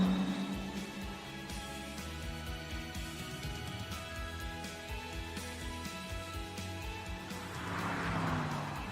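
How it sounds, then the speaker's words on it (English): A BMW's V8 engine runs in The Grand Tour Game with a steady, tonal hum. It rises into a louder rev and rush in the last two seconds, with no one talking. "most of that, to be honest, is because of that V8 engine"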